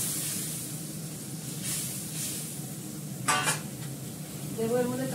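Hot water poured into a pan for cooking fish, a soft ongoing hiss and splash with a sharper sizzling burst midway and light clinks of cookware, heard fairly close and on its own.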